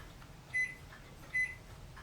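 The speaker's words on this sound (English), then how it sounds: "my microwave's telling me that my tomato rice casserole's ready" A microwave oven signals that a tomato rice casserole is done, giving two short electronic beeps spaced about three-quarters of a second apart over a quiet room hum.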